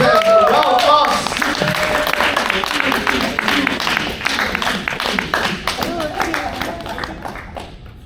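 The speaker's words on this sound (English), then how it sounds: "let's have a round of applause." Audience applause at a Toastmasters-style club table topics session, a steady crowd of hands clapping for about eight seconds that slowly thins toward the end, with some voices mixed in.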